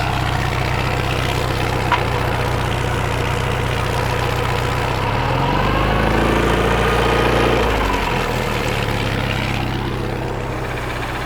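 A Regal boat's engine idles in a steady, loud drone, then its low rumble shifts and deepens midway as it is put into reverse, before settling back to an even run.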